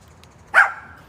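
A single short bark from a dog left outside in a garden with hummingbird feeders, moderately loud against quiet outdoor background.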